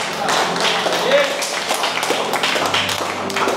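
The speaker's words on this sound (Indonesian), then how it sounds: "beri tepuk tangan buat Tuhan" Lively clapping from a church congregation at a healing service, a busy rhythm of many hands under loud voices and music, steady throughout.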